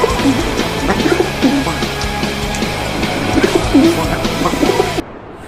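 Racing pigeons cooing repeatedly in a low, throaty rhythm, close by over a steady ambient hum, with a few faint chirps mixed in.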